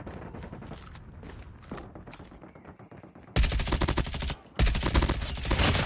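Gunfire crackles in Call of Duty Mobile multiplayer: scattered shots and quieter clatter give way to loud, rapid automatic bursts with a brief pause between two sustained volleys.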